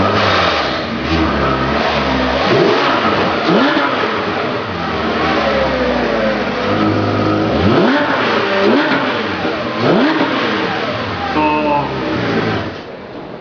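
A Porsche 911 GT3 RS 4.0 fitted with a racing air filter revs loudly and close by, its engine note rising and falling in repeated sweeps over a steady drone, with people talking in the background.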